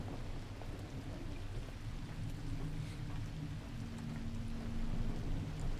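Steady rain and low rumbling thunder from a lightning storm in The Last Caretaker, a continuous dense wash with a faint tonal hum running underneath, no voices.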